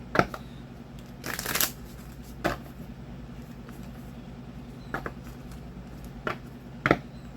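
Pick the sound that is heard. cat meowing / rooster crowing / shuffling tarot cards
shuffling tarot cards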